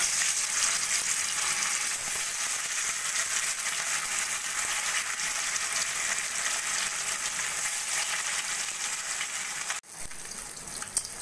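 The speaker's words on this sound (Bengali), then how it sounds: "কড়াইতে তেল দিয়ে তেলটা আমি ভালো করে গরম করে নিয়েছি। এবার আমি মাছগুলো ভেজে নেব।" Rui fish frying in hot oil in a wok, a loud, steady, dense sizzle that holds for about ten seconds before a brief dip, then resumes more faintly.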